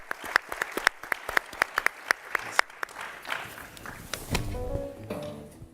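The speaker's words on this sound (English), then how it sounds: "Let's give them another round of applause" A small audience gives a round of applause, sparse distinct claps in a quick uneven rhythm that thin out, followed by a voice speaking and a few more scattered claps.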